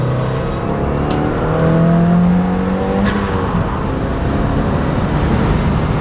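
A car engine revs and accelerates to pass another car, loud and steady from inside the cabin of a widebody Genesis, a sustained drone that swells and then holds.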